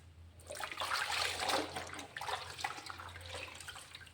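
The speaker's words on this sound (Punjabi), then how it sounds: "ਫਿਰ ਇਹਨਾਂ ਦਾ ਚੰਗੀ ਤਰ੍ਹਾਂ ਨਾਲ ਆਪਾਂ ਕਈ ਪਾਣੀ ਇਹਨਾਂ ਦੇ ਸਾਫ਼ ਕੱਢਾਂਗੇ" Dirty kitchen towels rinsed by hand in a basin of water give a continuous splashing and sloshing wash, close and fairly loud, with a brief lull near the middle and no voices.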